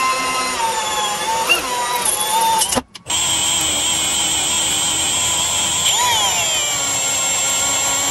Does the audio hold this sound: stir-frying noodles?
no